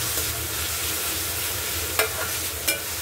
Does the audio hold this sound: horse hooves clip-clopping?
no